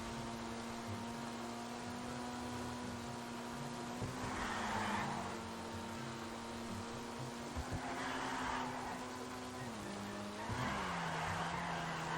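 A Jester RR sports car in GTA 5 Online drives with a steady engine drone, its tires squealing in repeated skids at intervals, with no talk.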